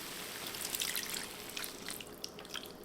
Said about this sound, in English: I'm going to take about a third of a cup of liquid amino, and I'm going to pour it in here.